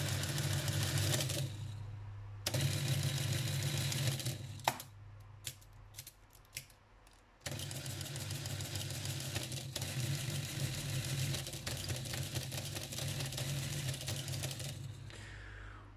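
A NISA PK5 mechanical calculating machine runs in multiplication mode, giving a dense, continuous mechanical clatter and whirring that pauses briefly midway and then resumes, close and steady with no talking.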